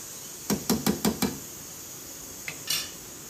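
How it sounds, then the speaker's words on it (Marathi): A lid is set on a pan of eggplant masala gravy: a quick run of five light metallic clinks and taps, then two softer knocks a moment later, close by with no talking. "आता झाकण ठेवून देणार आहे ग्रेव्ही छान घट्ट होईपर्यंत"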